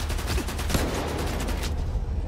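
Dense enemy gunfire in S.T.A.L.K.E.R. 2, a rapid volley of close, loud shots that rattle steadily throughout without pause.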